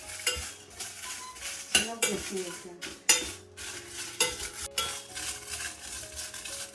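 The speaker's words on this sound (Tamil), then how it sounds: "இப்போ வத்தல் வறுத்துக்கணும்." Dry red Kashmiri chilies roast in a pan with a faint sizzle, while a utensil repeatedly scrapes, stirs and clinks against the metal in irregular bursts.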